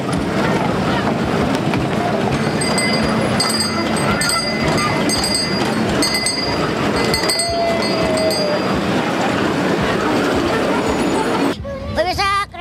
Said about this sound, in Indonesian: keretanya sudah laju